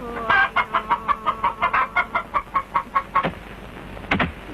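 Domestic chickens in a humid Borneo village cluck in a rapid, regular series of about a dozen close, loud calls, followed by a couple of sharper squawks.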